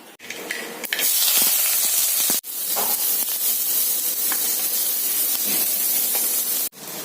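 Onions with mustard seeds sauté in hot oil, a loud close hiss and sizzle that holds steady with a few abrupt breaks.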